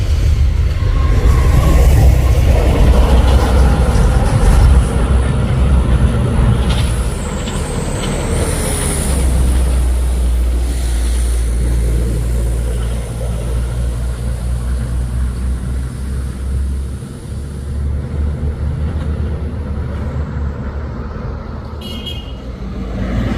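A heavy trailer truck rumbles past on a hill road, a loud low engine roar and road noise that swells and fades, with a brief air-brake hiss partway through and no talk.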